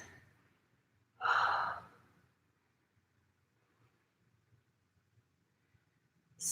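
One deep breath exhaled slowly during a yoga inner-thigh stretch, close and fairly loud, followed by long near-silence with faint low rumble and a soft breath starting at the end.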